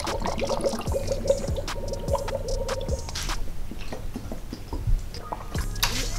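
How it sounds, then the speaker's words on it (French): Piaggio Zip SP 70cc racing scooter's water pump churns coolant while air bubbles gurgle and rise through the radiator, a steady watery squishing with scattered drips and ticks close by, no talk. "En faisant tourner la pompe à eau, j'entends des bulles d'air qui sont poussées et remontent dans le radiateur"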